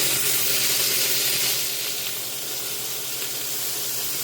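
Duck pieces sear in a hot pan with a steady, close sizzle and hiss throughout. The sizzle is loud at first and eases a little partway through, with no talking.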